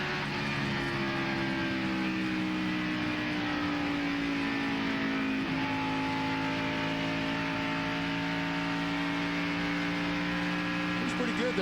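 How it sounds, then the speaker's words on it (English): A NASCAR Winston Cup stock car engine droning steadily at the California Speedway, a continuous loud tone that drops in pitch midway as the throttle eases, heard from a broadcast with a faint voice. "I think I heard the throttle go down."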